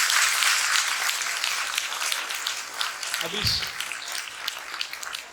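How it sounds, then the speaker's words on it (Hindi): An audience applauding teachers at a gathering in Valukad, Gujarat: steady dense clapping throughout, with a brief low thump partway through. "आप सब टीचर्स के लिए जोरदार ताली, आपके टीचर्स के लिए जोरदार"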